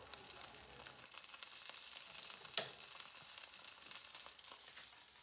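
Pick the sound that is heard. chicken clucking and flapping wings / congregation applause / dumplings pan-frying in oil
dumplings pan-frying in oil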